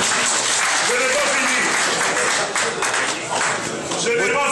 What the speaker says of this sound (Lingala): Est-ce qu'on peut applaudir pour Papa Mike?